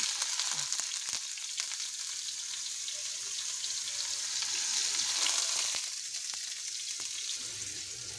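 Garlic fries in hot oil with a steady close sizzle and occasional crackles, continuing throughout with no talking.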